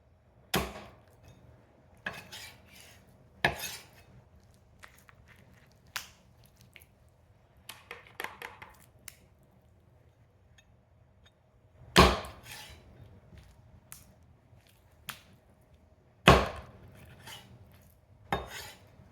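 A Chinese bone cleaver chops chicken on a dense 250-pound antique butcher block, sharp, solid thwacks landing singly at irregular intervals, with quieter knife and handling sounds between and a quiet background otherwise.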